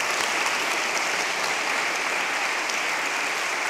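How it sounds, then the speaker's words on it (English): Warm, continuous applause from a concert audience at a Christmas show, a dense wash of many hands clapping at steady volume from start to finish. "Let's give him another round of applause"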